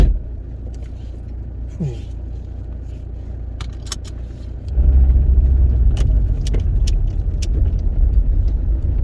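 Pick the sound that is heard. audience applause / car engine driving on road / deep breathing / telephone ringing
car engine driving on road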